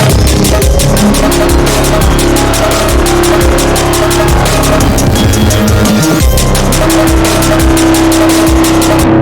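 A synthesized screaming roar bass plays loud and continuous, a dense harsh growl with a rapid pulsing texture and a short break near the middle.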